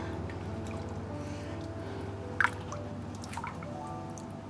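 Coconut milk from cans going into a pot for a gulai broth, heard as a few soft liquid drips and one brief splash over a steady low kitchen hum.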